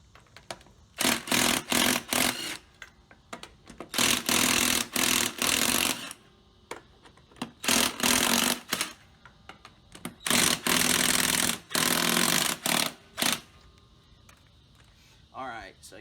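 A power tool loosens the 4 3/4 inch lug nuts on a golf cart wheel. It fires in about seven sharp, loud bursts of a second or two each, with quiet gaps between them.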